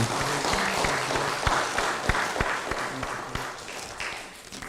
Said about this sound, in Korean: 이렇게 전해 주시면 박수해 주십시오.